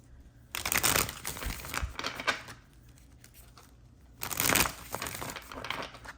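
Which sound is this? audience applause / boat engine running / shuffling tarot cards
shuffling tarot cards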